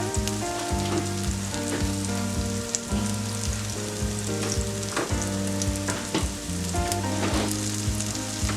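Soy chunks fry in a pan until crispy, giving a steady, close sizzle with soft crackles and occasional stirring clatter throughout, no voices.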